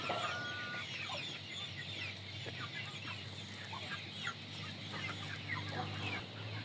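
Several Indio Gigante chickens clucking and calling close by, overlapping bursts of clucks, with faint farmyard background noise.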